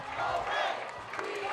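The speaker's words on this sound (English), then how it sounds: "the We Are Colerain cheer coming from the Colerain stands" Fans in the home stands at a Colerain High School football game against St. Xavier chant a rhythmic team cheer, a broad, fairly distant crowd roar of voices shouting together.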